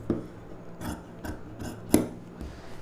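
Scissors snip through silk blouse fabric for a pa neck blouse in a few separate close cuts, with one sharper crunch near the end and quiet pauses between.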